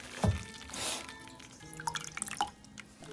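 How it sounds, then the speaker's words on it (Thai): Oyster rice soup stock, smelling of sea, fish and seaweed, is poured through a strainer, giving a brief splash followed by scattered dripping and trickling, quiet and close, with no talking. "เราก็จะกรองซุป กรองพวกเศษออกเลยนะคะ"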